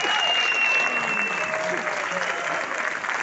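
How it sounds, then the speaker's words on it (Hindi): An audience at a Mumbai success seminar gives sustained applause, dense and steady clapping that fills the hall, with a faint tonal voice or music line running underneath. "और जोरदार ताली के साथ"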